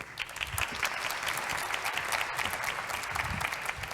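A conference audience gives sustained, dense applause as a university vice-rector is welcomed onto the stage, a steady wash of many hands clapping evenly throughout.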